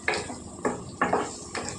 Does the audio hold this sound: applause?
no